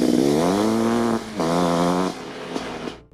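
A Suzuki LT500R Quadracer quad bike with a 500cc two-stroke engine revs hard and loud up close, two sustained buzzing high-revving bursts separated by a brief drop, then the engine falls off and fades out.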